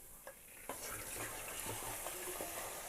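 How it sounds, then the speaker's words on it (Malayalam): Chicken pieces dropped into a hot pan of sliced onions for a spicy chicken dish start frying, with a sharp bump of contact, then a steady close sizzle and a few stirring scrapes, alone. "ഇനി ഇതിലേക്ക് ചിക്കൻ ചേർക്കാം."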